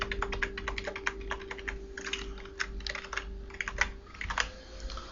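A computer keyboard clatters as a password is typed, a rapid run of close, crisp key taps in uneven bursts with short pauses, under a faint steady background hum and no speech.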